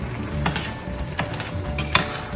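Mushrooms cook in a dry pan with no oil and are stirred with a utensil, giving a few sharp scrapes and clinks over a soft, steady sizzle.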